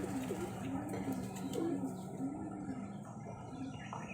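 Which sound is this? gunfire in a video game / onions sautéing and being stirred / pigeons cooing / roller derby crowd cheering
pigeons cooing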